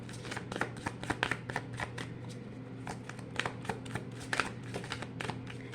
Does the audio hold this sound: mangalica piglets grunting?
no